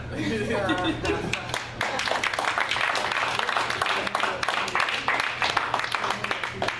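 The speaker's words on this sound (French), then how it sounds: "je vais juste applaudir" An audience at a training camp claps after a presentation, a dense, sustained patter of many hands with a voice speaking briefly at the start.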